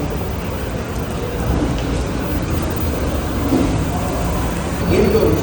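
Heavy rain falls steadily with a dense, loud hiss while low thunder rumbles underneath, at departure from Luxembourg.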